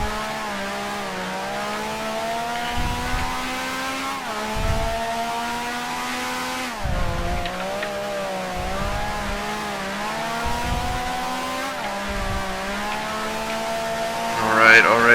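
Race car engine in Grand Prix Legends, a 1965 racing game, revving high and shifting repeatedly, pitch climbing and dropping through gears over a steady roar with occasional tire squeal.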